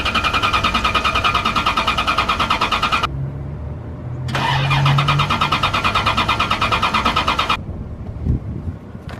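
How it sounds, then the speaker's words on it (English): A Corvette being converted into a full-size R/C car cranks over and fires, with steady engine drone broken by a brief silence before the motor catches again, heard close and loud with no talk. "I'm gonna start her up so you can hear how it sounds"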